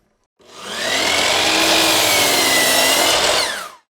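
A miter saw cross cutting wooden boards for a kitchen shelf: a loud, close whine that spins up, holds steady for about three seconds through the cut, then cuts off abruptly.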